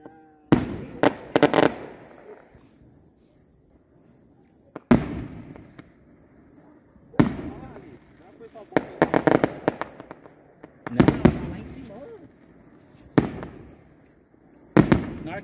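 Firework shots from a Brazilian fogaréu display, sharp repeated bursts in irregular clusters with gaps between, fairly close and loud, with faint voices between volleys.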